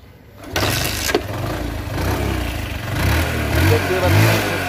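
A second-hand Suzuki Hayate 110cc motorcycle engine starting up, a sharp crank catching into a close, loud running rumble that builds slightly toward the end.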